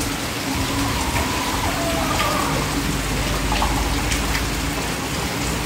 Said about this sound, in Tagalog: Wala pa rin pong tigil ang ulan mula kahapon at kagabi.